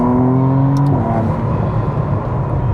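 A 2025 McLaren Artura hybrid with an 8-speed gearbox and 690 horsepower accelerates hard, its loud engine note rising in pitch, shifting, then settling into a strong sustained roar heard from inside the car.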